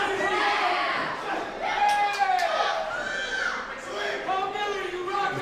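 A fight crowd at a Mayweather boxing event cheers and shouts, voices rising and falling in loud overlapping waves of yells through the whole stretch.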